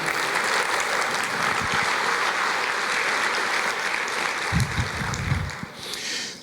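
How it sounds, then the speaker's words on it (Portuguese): A church congregation applauds steadily, a dense, even wash of many clapping hands that fills the space, with a low thump or two near the end as it starts to trail off. "Você pode aplaudir o Senhor e dizer glória a Deus?"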